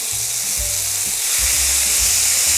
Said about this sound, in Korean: 아까 절여서 물기 빼놓은 감자채를 넣어줍니다